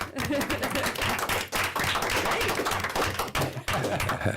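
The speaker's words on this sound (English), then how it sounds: "You do deserve the applause, Amanda" Sustained applause from the audience at a city council meeting, dense steady clapping with scattered sharper claps, fairly close and continuous throughout.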